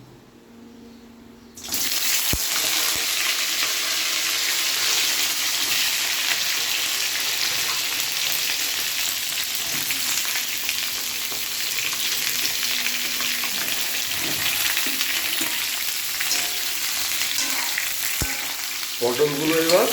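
Pieces of pointed gourd (potol) drop into hot oil with bay leaf and dried red chilli, setting off a sudden loud, dense sizzle that holds steady and close throughout, with occasional spoon knocks and no talking.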